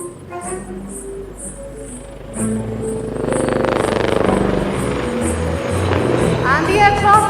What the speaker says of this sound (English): Keep looking as the helicopter turns to carry out a steep turn again.